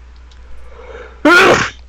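A single loud, close sneeze bursts out after a stretch of quiet room tone, sharp at onset and fading within about half a second, with no talking over it.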